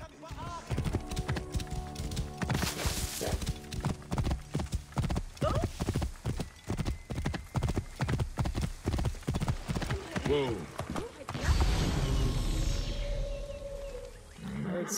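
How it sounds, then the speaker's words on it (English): Horse hooves clip-clop in a steady galloping rhythm through an Assassin's Creed Origins game scene, loud and close, with a brief whinny and a louder rush of wind or movement near the end. "We'll take this guy's horse."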